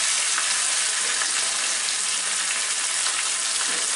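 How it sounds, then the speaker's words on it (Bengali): Onion and garlic paste frying lightly in oil in a pan, a steady close sizzle that runs unbroken from start to finish, with no talking. "এগুলাকে দিয়ে একটু হালকা করে ভেজে নিব"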